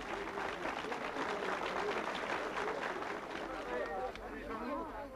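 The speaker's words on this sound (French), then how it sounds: "l'atterrissage sous les applaudissements des nombreux invités" Applause from a large crowd of guests greeting a Soyuz capsule landing in snow, a dense, steady wash of clapping that fills the whole stretch with faint voices mixed in.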